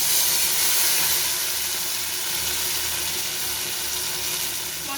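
A spice paste of ground mustard and green chili fries in a pan of spices for a mustard pabda fish dish, giving a steady, close sizzling hiss with faint stirring and no voices.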